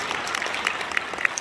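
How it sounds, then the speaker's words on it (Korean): Church congregation at a mission launch service applauds, a soft steady patter of many hands with a few sharper individual claps standing out, heard from a moderate distance. "최 목사님이 얼마나 부담이어서 박수를 치십니까?"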